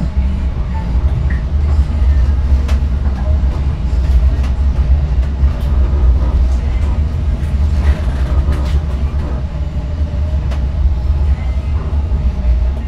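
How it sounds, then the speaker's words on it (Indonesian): The Taksaka Tambahan panoramic-class passenger train pulls into Bumiayu station, heard as a steady low rumble with scattered clicks and rattles throughout. "kereta api Taksaka Tambahan tiba dan berhenti di stasiun Bumiayu"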